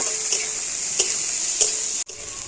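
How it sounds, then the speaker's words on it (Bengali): Onion and chillies being lightly fried in a pan, a steady bright sizzle with a few soft scraping stirs, close and unbroken except for a brief cut near the end, no voices. "আর এবারও সব কিছু একটু ভেজে নেব তো খুব বেশি ভাজবো না একটু হালকা করে ভেজে নিতে হবে"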